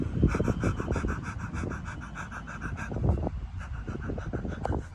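A voice imitates the rapid, heavy panting breath of someone running hard, with quick rhythmic huffs close up and continuing steadily throughout with no pauses.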